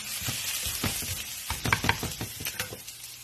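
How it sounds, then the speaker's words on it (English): Tofu sizzles and fries in a pan with cream nearby, a crackling, spattering hiss punctuated by scraping stirring strokes, close and moderately loud, with no talking. "I'm cooking tofu with cream."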